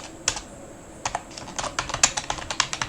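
Close, crisp keystrokes from a computer keyboard come in short bursts, a handful of distinct clicks followed by a quicker run of typing, with no talking.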